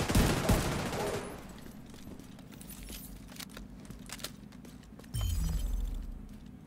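Gunfire in The Division 2 starts as a dense burst of shots, then thins to scattered sharp cracks over a low ambient hum, fairly quiet overall.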